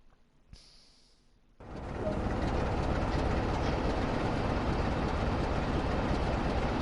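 A train in the Train Sim World video game starts up after a quiet moment and settles into a loud, steady, continuous running roar that carries on to the end, with no talking.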